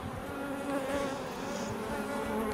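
Honeybees hum steadily at opened hives during a hive visit, a dense, close, continuous buzz with no pauses or talk.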